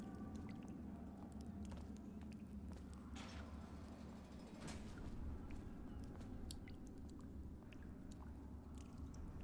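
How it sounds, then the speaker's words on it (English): A character eats glowing bread in the Dishonored video game, with continuous wet chewing and munching close up over a constant low ambient rumble, without talk. "You should eat, Corvo. This meal comes from a friend. Mmm, glowing bread"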